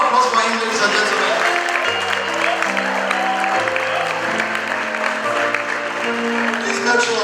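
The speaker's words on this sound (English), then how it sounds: "A round of applause for him, ladies and gentlemen." Audience applause for a graduate mounting the podium at a graduation ceremony, a sustained round of dense clapping with music playing underneath throughout.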